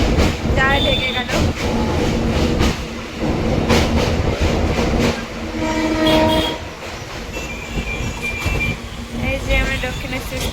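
A passenger train pulling into Dakshineswar station beside Bally Bridge rumbles and clatters loudly and continuously, with horn tones sounding over the wheel noise and a voice speaking now and then.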